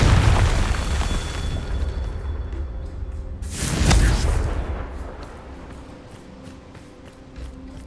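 A Confringo fire-blast spell from the Hogwarts Legacy video game goes off as a deep, booming explosion about midway through, swelling loudly and then fading into a rumbling tail over steady in-game ambience.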